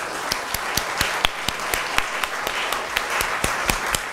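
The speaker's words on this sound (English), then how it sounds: "I want you to applaud absent friends for child rights" Applause from an audience at a university law faculty closing ceremony, with dense steady clapping and a few sharper claps standing out across the four seconds.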